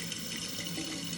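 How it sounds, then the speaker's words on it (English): Water rushes steadily into a Kohler Wellworth toilet tank as it refills, a faint, even hiss with no pauses. "tank is filling"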